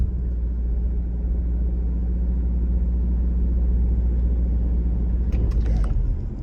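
A Jeep Grand Cherokee 4xe labours up a steep snowy hill, its engine and drivetrain making a loud, steady, low rumble from inside the cabin. A few brief clicks come near the end.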